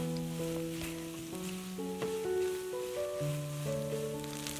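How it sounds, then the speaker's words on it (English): Korean cup ramyeon noodles and broth fry in a pan over medium-high heat, a gentle, fairly quiet crackling sizzle sitting beneath prominent melodic background music. "Put all the noodles and the broth into the pan. Fry it for about 3 minutes on medium-high"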